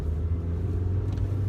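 Lightweight budget-build Honda Civic engine pulling hard under acceleration, a steady deep rumble that stays loud and close throughout with no pauses.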